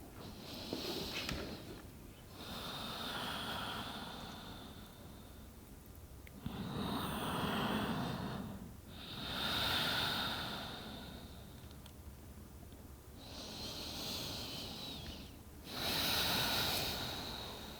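Slow, deep yoga breaths rise and fall in long, quiet cycles of inhale and exhale, close to the listener, with soft pauses between each breath.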